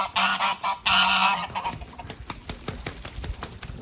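Geese honk loudly and close in a backyard pool full of broken ice chunks, with a couple of strong calls at first, followed by quieter splashing and clattering.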